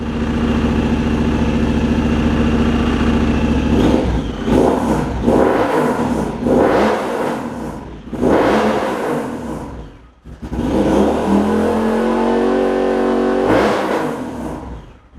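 A Honda Talon side-by-side fitted with a Power Tune XTO muffler revs up loudly and close, in several rising and falling bursts with short dips to idle between them, and no one talks.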